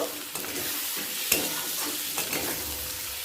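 Spice powders being stirred into fish cooking in oil, a constant hissing sizzle with a couple of sharp spoon scrapes against the pan, close and fairly loud, no talking.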